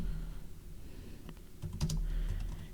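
Keys clatter on a computer keyboard in a short burst of typing, the taps close and fairly quiet over a low room hum, with no one speaking.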